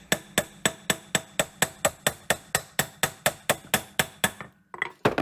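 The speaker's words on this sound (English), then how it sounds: "You can hear from the sound of the hammering that it's going in. It changes tone." Steady hammer blows driving an axle into place on a Jeep Cherokee during a steering and axle reinstall, about fifteen sharp metallic strikes in even rhythm, close and loud, ending in a brief scuffle of handling noise.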